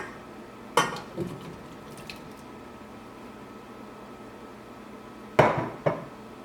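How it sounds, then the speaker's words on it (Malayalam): Cut tomatoes tipped into a cooking pot while making tomato ketchup, giving two clattering drops of pieces landing in the pot, each with a short rattle of utensil on metal, with a quiet pause between and no talking. "ഈ ടൊമാറ്റോ കെച്ചപ്പ് ആക്കാൻ വേണ്ടിയിട്ട് തക്കാളി വേവിച്ചെടുക്കുക. അതിന് വേണ്ടിയിട്ട് ഈ പാത്രത്തിലേക്ക് തക്കാളി ചേർക്കാം."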